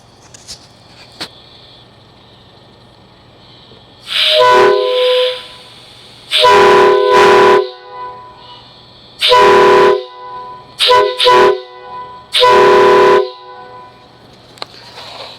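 Loud custom PVC K5LA train air horns blast in a series of honks: several long blasts and a couple of short ones, separated by quiet gaps with faint background hum.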